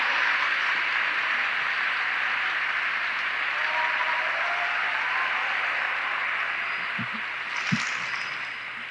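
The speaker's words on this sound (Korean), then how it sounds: "여러분 큰 박수로 환영해 주시기 바랍니다" Audience applause welcoming a speaker at a large Amway convention event in Korea, a dense steady wash of clapping filling the whole stretch, with a couple of faint knocks near the end.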